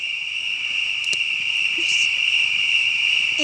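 Steady, high insect trill of crickets at night runs unbroken throughout, loud and continuous, with a few faint clicks and rustles beneath it and no talking.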